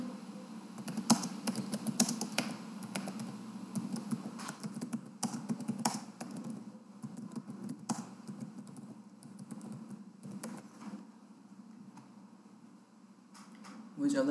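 Fingers typing on a computer keyboard, close, quick irregular clicks in bursts that slow near the end, with a voice speaking underneath.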